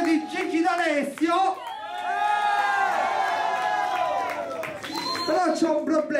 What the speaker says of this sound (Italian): un applauso a Misto Mame, un applauso a Isao